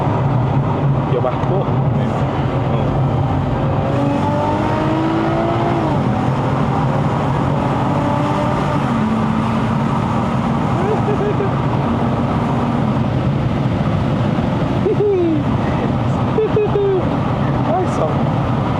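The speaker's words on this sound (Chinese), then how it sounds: "我们表演一下 V6 的声音给他听哦" A Lexus IS350 convertible's V6 engine revs on a mountain road run, a steady broadband roar with rising and falling tones, heard under wind noise and occasional talk.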